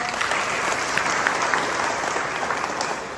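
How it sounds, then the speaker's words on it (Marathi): Audience clapping loudly and steadily for a woman lawyer at a public gathering, a dense sustained round of applause with no speech over it. "या ताईसाठी जोरात टाळ्या वाजवा"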